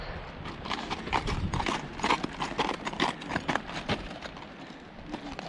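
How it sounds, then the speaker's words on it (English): Horses pass on a mountain hiking trail in Torres del Paine, their hooves clip-clopping on the ground in a dense, continuous stream of close, loud steps. "you have to share it with horses, so every once in a while they will be passing by"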